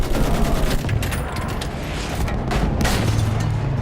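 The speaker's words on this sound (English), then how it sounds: "Use that machine gun! Mow them down!" Video game battle gunfire, with dense bursts of machine gun fire and booming shots rattling continuously at close range, loud and steady throughout with no voices.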